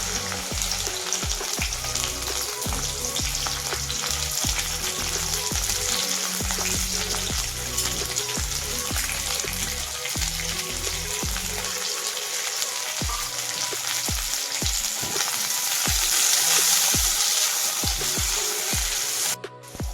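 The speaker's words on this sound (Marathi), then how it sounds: "त्याच्यामध्ये आपण आता भेंडी तळून घेऊ. ही काप केलेली भेंडी टाकते." Sliced okra frying in plenty of oil in a kadhai makes a loud, steady sizzle and crackle for twenty seconds, with occasional clinks and stirring scrapes and no talking.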